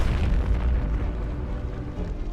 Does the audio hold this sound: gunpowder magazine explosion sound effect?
yes